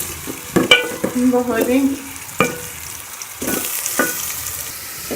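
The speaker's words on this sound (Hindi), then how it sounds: "ये मैंने 1 अदद जो प्याज काटी हुई थी इसको डाल के मैं ब्राउन कर लूँगी।" Chopped onion browns in a pan for a potato and spinach curry, a soft continuous sizzle broken by a few scraping stirs, while someone talks over it.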